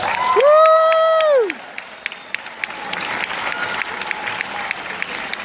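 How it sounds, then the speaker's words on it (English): Applause breaks out at a high school band banquet, opening with a loud whoop and cheers over the clapping, then settling into steady, moderate clapping from the room that carries on to the end. "So give her a big round of applause."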